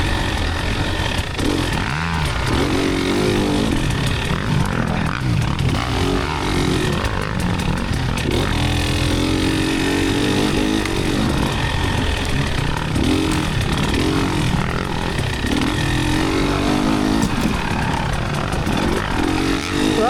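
Enduro dirt bike engine revving hard during the Mad Moose 2024 hard enduro race, with loud, continuous, rising and falling rev sweeps from close range and no talk.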